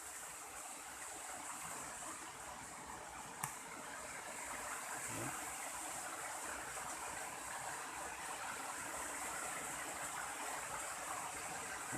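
Water runs steadily through a newly repaired water pipe outdoors, a soft continuous rushing flow with a single brief knock partway through, faint and without talk.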